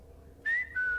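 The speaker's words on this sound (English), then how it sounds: "I heard what sounded like someone whistling" Two short, clear whistled notes, the first sliding slightly and the second held steady, sound alone over quiet room noise. The whistling was reported as a ghost.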